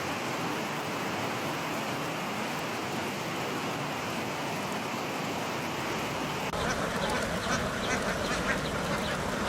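A flock of ducks quacking continuously, a dense noisy chorus of birds close by with a steady watery wash underneath throughout.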